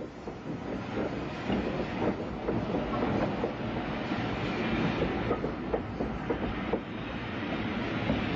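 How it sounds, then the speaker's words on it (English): West Country Class steam locomotive 34100 Appledore hauls the down Golden Arrow Pullman slowly through Paddock Wood, a steady rumble with rhythmic clickety-clack of wheels over rail joints and some wind buffeting the microphone. "West Country Class 34100 Appledore brings the down Golden Arrow slowly through Paddock Wood on that day"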